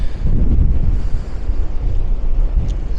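Strong wind buffets a microphone close up on a coastal walk at St Bees, Cumbria, producing a loud, rough, continuous roar with gusty surges throughout.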